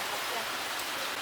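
Heavy rain falls steadily in a city shopping district in Seoul's Gangnam, a dense continuous hiss with no breaks, close and loud.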